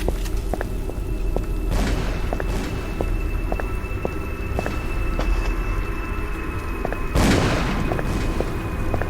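Gunfire and explosions ring out in the Call of Cthulhu: Dark Corners of the Earth game, with a steady run of rapid sharp shots and a few heavier blasts, one big burst near the end, over a dense rumbling backdrop.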